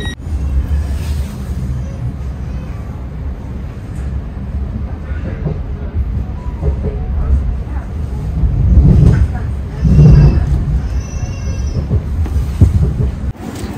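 Rumbling ride aboard a train, a continuous low rolling rattle with swelling surges, while people talk nearby throughout.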